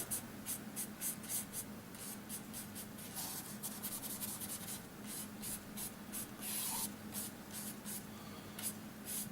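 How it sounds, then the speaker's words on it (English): A paintbrush scrapes excess oil paint off, making soft, rhythmic dry strokes repeated steadily and heard close and quiet with no talking. "lighten it up just a hair by brushing, essentially taking your brush and scraping that excess away"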